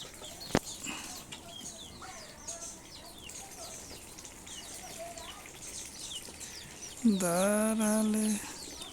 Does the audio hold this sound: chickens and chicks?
yes